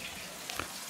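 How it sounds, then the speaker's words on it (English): A 1/10 short course RC car body is rinsed under a running tap, giving a soft, steady stream of water with a couple of faint splashes. "Give it a good rinse."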